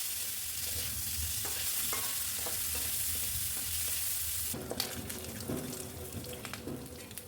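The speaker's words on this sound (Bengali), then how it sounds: "তারপর তাতে আগে থেকে নুন হলুদ মাখিয়ে রাখা চিংড়ি মাছগুলো খুব ভালো করে ভেজে নিয়েছিলাম।" Shrimp coated in salt and turmeric frying in hot oil, a steady broadband sizzle with scattered pops that turns sharper and more crackly partway through, close and fairly loud with no talk.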